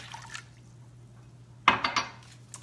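Water is poured for a brown gravy mix in a home kitchen, a short splashing pour with a few liquid drips and clinks against a quiet room.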